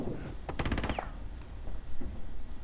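Burst of rapid gunfire in Rainbow Six Siege, a quick volley of shots lasting under half a second, mid-distance and fairly loud against a steady background hum.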